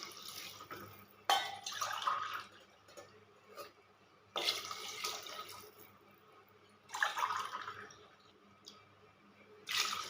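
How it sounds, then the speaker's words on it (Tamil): Water splashes and pours into a cooking pot in several separate bursts, each lasting a second or two, with quiet pauses between. "நாலு டம்ளர் தண்ணி ஊற்றுறேன்"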